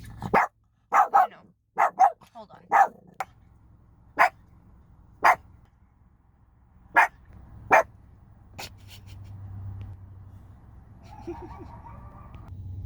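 Dogs in an apartment complex bark in a series of sharp, loud, separate barks spaced a second or so apart, then fall quiet, leaving a low hum and some faint yips.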